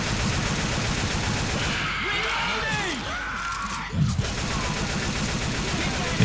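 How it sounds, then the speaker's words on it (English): Gunfire in the zombie shooter Left 4 Dead 2, a steady stream of rapid shots running through the whole stretch at even loudness, with a heavier thump near the four-second mark. "He's shooting me, Paul."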